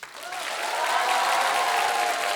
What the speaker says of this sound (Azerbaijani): alqışlar anı